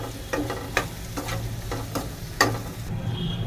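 Onions and ground masala sauté in a pan for a matki batata rassa, a steady close sizzle punctuated by several quick spatula scrapes against the pan.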